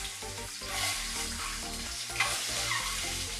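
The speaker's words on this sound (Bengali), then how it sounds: "ডিমটাকে ভেজে নেব।" Four boiled eggs, coated in salt and turmeric, frying in mustard oil, a continuous dense crackling sizzle with soft knocks of eggs shifting in the pan, steady and close with no voice.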